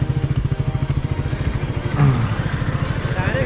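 A brand-new Triumph Speed 400 motorcycle on a road, its engine pulsing in a steady, rapid low thump, close and fairly loud, with a brief louder surge partway through.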